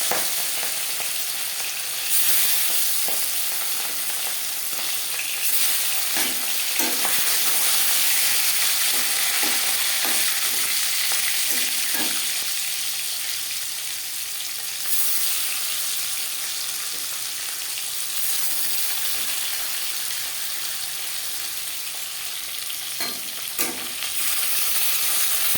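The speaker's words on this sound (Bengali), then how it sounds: "4 চামচ রিফাইন্ড অয়েল গরম করে নিয়েছি। দিয়ে দেবো ম্যারিনেট করে রাখা মাছ।" Marinated fish frying in hot refined oil, a loud, steady close sizzle with occasional crackles and utensil clinks running continuously, no speech.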